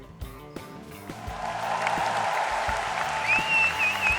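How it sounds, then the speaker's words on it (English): Canned applause from a clap machine swells and keeps going as a dense, steady patter, with a few low tones and a faint whistle-like sound coming in near the end. "Don't you have a clap machine over there?"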